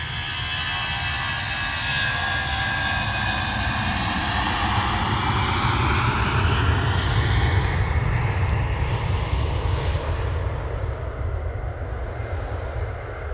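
A jet airliner takes off from Manchester Airport, its engines holding a loud, broad, steady roar with a sweeping whine that builds and then slowly eases as it pulls away, no voices.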